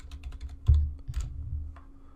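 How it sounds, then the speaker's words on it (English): Typing on a computer keyboard, a rapid patter of close key clicks with a few heavier presses, continuous with no voice. "I don't like talk when I'm typing."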